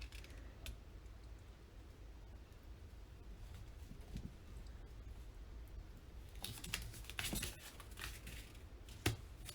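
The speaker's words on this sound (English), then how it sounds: "Needs to have a bit of green around to just cut the edges off." Scissors snipping around the edges of paper for a scrapbook layout, a few crisp cuts and rustles close up against a quiet room, with the sharpest snips near the end.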